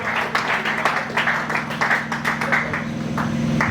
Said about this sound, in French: On peut applaudir.